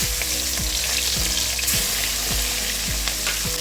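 A hilsa fish head fries in hot salted oil, giving a loud, continuous sizzle with a dense crackle and occasional louder spits, close up and with no voices.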